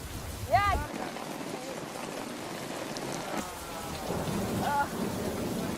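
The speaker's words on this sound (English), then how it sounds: "it rains in torrents for a month" Heavy tropical rain falls in torrents in Hawaii, a steady dense wash of drops with low rumbling thunder beneath, while a bird chirps briefly near the start and again later.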